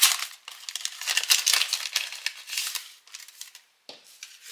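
A wool advent calendar packet is opened up close, giving crinkly paper and plastic rustling and tearing in uneven bursts, with a brief pause near the end before a final crinkle.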